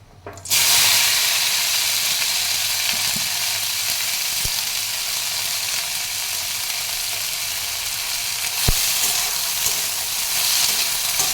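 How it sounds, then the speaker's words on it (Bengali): Dhenki shak (fiddlehead fern greens) fry in hot oil with a loud, continuous sizzle that starts abruptly and holds steady, broken by an occasional click or spatter. "এই তেলে আমি ঢেকি শাকটাকে ভেজে নেব আগে"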